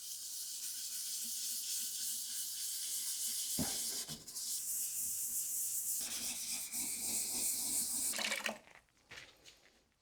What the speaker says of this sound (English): Next, I'm going to wet sand the lens using water and starting with the 400 grit sandpaper.